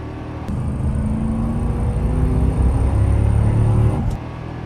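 A 1997 Toyota Celsior Comrade CS500 engine revs up and holds a loud, steady roar as the car accelerates hard, with deep rumbling throughout.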